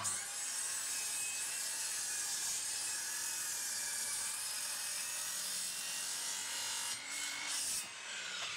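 A 2.4 m length of timber for hand-carved wooden wind turbine blades is sawn in a continuous, close, rasping stroke that runs steadily before slowing near the end.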